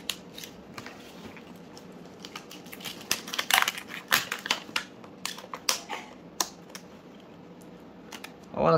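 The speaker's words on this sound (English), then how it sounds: "I'm gonna cut the wrapping." Cutting into the plastic shrink wrapping of a 36V 15.4Ah e-bike battery, a run of close, irregular sharp snips and crackling tears with a louder crinkle near the end.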